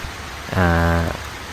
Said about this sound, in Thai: บรรยากาศตอนนี้ฝนก็เริ่มเทลงมานะครับ